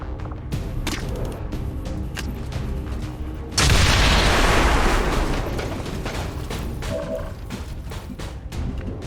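A Claymore is detonated in the video game XCOM 2: War of the Chosen, setting off a sudden loud blast that cuts through the game's ticking background and fades into a long, rumbling decay.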